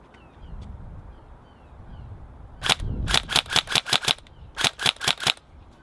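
Tokyo Marui HK416 Delta recoil shock airsoft rifle on a 7.4 volt LiPo battery firing two quick bursts of sharp clacking shots at a steady, moderate rate, close, after a quiet lead-in.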